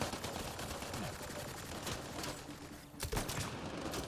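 Enemy gunfire fills a firefight in Mass Effect: Andromeda, with dense rattling bursts and overlapping shots that run almost continuously, loud and busy, plus a sharper volley near the end.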